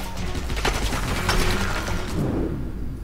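Gunfire from the action video game Stranglehold, heard as a dense, loud burst of shots and impacts that keeps going through the whole stretch, with booming low-end weight and no speech over it.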